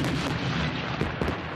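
Tank cannon fire at a military training range, heard as a dense, continuous rumbling roar of blasts and low booms with a couple of sharper reports near the end, loud and without speech.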